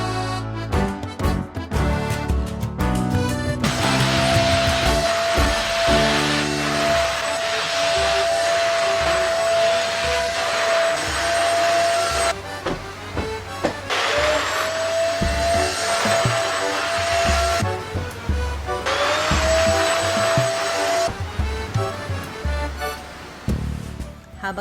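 Vacuum cleaner cleaning a bedroom and its bed, a loud steady motor whine running in long stretches, cut by short breaks and bumping handling noises as the nozzle moves.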